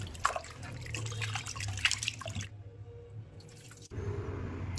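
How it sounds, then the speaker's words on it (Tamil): Raw mutton being rinsed in water, heard as splashing, dripping and trickling at close range, with a brief quieter gap before the washing sounds resume. "முதல்ல நம்ம எடுத்து வச்சிருக்கிற மட்டனை வந்து தண்ணியில் வந்து நல்லா கழுவிக்கலாம்"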